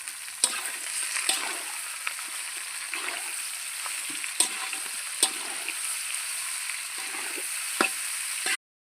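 Mango pickle spices with turmeric and salt being stirred in a hot oiled pan, a steady sizzle with a spatula scraping and clinking against the pan at irregular intervals, close and alone.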